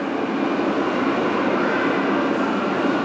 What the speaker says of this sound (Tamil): இந்த ட்ரெயின் ஆவடி வரைக்கும் போகுதுன்னாங்க